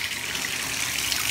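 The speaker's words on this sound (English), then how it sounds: "now we're actually going to apply the faucet again" Tap water gushes steadily from a faucet onto a mouse pad being cleaned, a continuous close hiss with no pauses and no talking.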